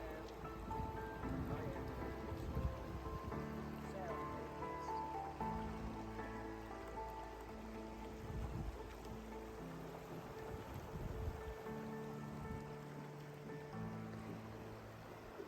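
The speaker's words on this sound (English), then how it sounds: "listen to the water and take in the calming sounds of the ripples" Continuous gentle river water rippling and burbling fills the scene steadily, with a faint low hum running underneath.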